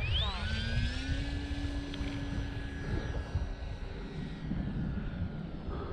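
An RC STOL model airplane flying in gusty wind, its engine droning steadily and rising and falling in pitch as the throttle is worked up and down, loud and continuous throughout with wind noise underneath.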